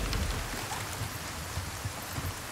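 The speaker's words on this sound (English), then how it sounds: "Ooh, lovely soft rain." Soft rain in the video game Resident Evil 4 Remake, a steady broadband hiss of falling drops with low rumbling patter underneath.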